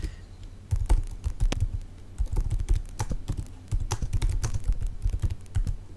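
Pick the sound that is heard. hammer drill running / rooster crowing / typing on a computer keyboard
typing on a computer keyboard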